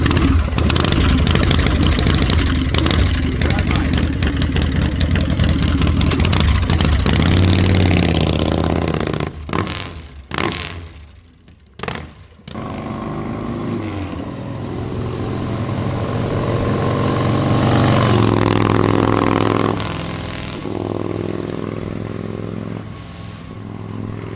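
A 1985 Harley-Davidson FXSB Super Glide motorcycle with a Wide Glide front end runs loudly close by, its V-twin engine rumbling steadily with revs rising and falling, briefly dropping out around the middle before picking up again.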